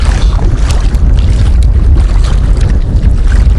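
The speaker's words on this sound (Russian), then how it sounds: "Мы с вами продолжаем борьбу с ветром." Strong wind roars and buffets the microphone, with low rumbling and splashing water from a kayak on a river beneath it.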